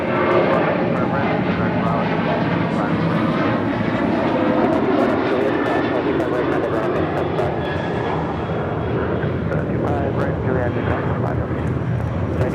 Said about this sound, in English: This is Alaska Airlines 1332 taking off to Loreto, Baja California on a 737-800.